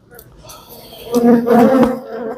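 Close, loud buzzing of honey bees swirling around an open hive in the rain, the drone swelling and wavering as insects fly near.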